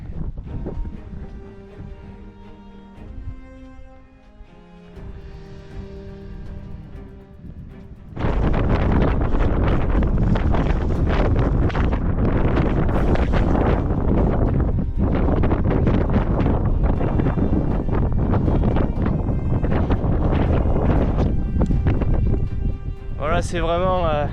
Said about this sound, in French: J'avoue que le vent est super froid.